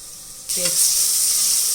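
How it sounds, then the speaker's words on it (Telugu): Chopped onions hit hot oil in a pan, bursting into a loud, bright sizzle that starts abruptly after a brief quiet moment and continues steadily as they fry. "ఆయిల్ వేసుకుందాము ఆనియన్స్ కట్ చేసి పెట్టుకున్నాను అలాగే ఫ్రై చేసుకుందాము"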